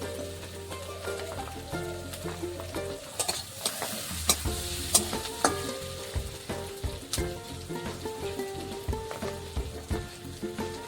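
Onions fry and sizzle in a pan, with a steady hiss broken by spoon stirring and scraping clatter. The sound is continuous and close, with no voices.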